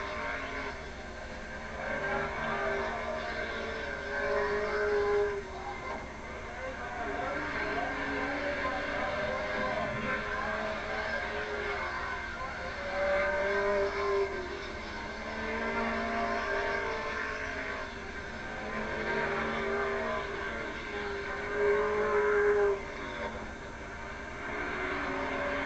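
Race cars circle Bridgecity Speedway in 1986. Engines rise and fall in a distant, muffled drone as they pass repeatedly under a steady rushing background.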